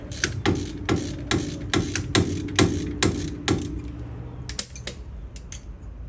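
A wrench ratchets and creaks in a series of sharp, evenly spaced clicks as it loosens a 13 mm brake line fitting on an Austin-Healey Mk2, with a few irregular clicks near the end.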